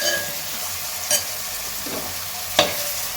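Mushroom curry stirred in a frying pan, a soft sizzle under occasional scrapes and clacks of the spoon against the pan, with no talking.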